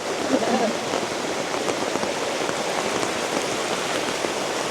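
Steady rain falls in a dense, even hiss with no pauses, drowning out a brief voice near the start.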